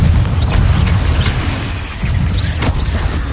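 Spell explosions from Hogwarts Legacy, with Bombarda and Confringo blasts, give a continuous loud booming rumble with bursts and crackles layered on top throughout.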